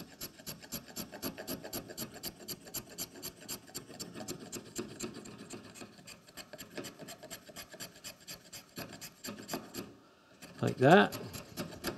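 A spokeshave with its coarse iron shaves wood while carving a wooden scoop, giving fast, regular rasping strokes close by. The strokes pause briefly near the end before a short spoken remark.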